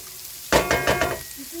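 Soy chunks frying and toasting in a pot, a sudden loud sizzle bursting in with a few pulsing crackles that fade after about a second, close by with no talking.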